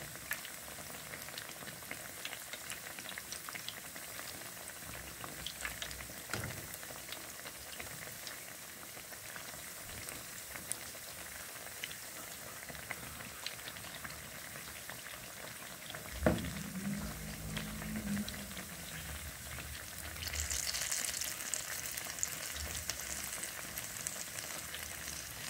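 Dal vada, made from ground dal batter, frying in deep oil, giving a steady, fairly quiet bubbling sizzle that runs throughout, with a brief louder crackle midway as more batter goes in.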